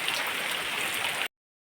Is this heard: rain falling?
yes